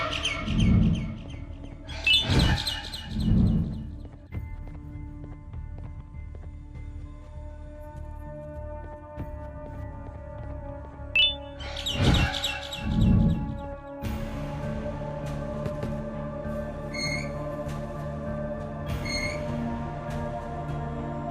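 Birds chirping in the Garten of Banban video game, repeated bright tweets scattered across the clip over a sustained tonal electronic hum, with a few louder low thumps and bursts mixed in.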